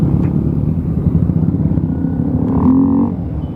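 Motorbike engine rumbles steadily on a Sunday morning ride, rising briefly in pitch and revving as it accelerates before easing off, loud and close throughout.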